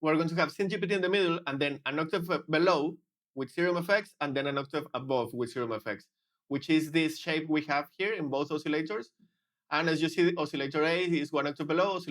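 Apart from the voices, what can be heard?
No distinct noise like a dog, phone or traffic.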